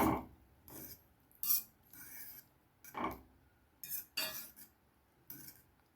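A spoon clatters against a pot while chickpeas are stirred, with bursts of metallic scraping and clinking at an irregular rhythm, close and fairly loud in a quiet kitchen.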